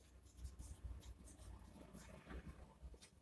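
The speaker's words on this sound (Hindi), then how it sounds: "तो हम यहाँ पे लिखते हैं हिप्पार्कस" Pen writing on a surface while a trigonometry note is jotted down, heard as a soft, continuous scratchy scribbling with small irregular strokes, faint and close, with no talk over it.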